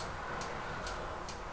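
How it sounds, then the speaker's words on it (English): A cuckoo clock ticks faintly in the background, three soft evenly spaced ticks over a steady low hiss with no talking. "I apologize for the cuckoo clock in the background"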